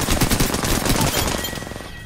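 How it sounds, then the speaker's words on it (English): Rapid enemy gunfire in the shooter game Apex Legends rattles in a dense, continuous burst close by, loud throughout with no talk over it. "Completely loses audio too while he's shooting at me."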